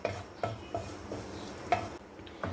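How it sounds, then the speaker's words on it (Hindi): Finely chopped garlic fries in butter in a pan, a quiet sizzle punctuated by a few soft knocks and scrapes of a spoon stirring it. "इसमें जाएगा बारीक कटा हुआ लहसुन। एक मिनट के लिए इसे हम अच्छे से भून लेंगे।"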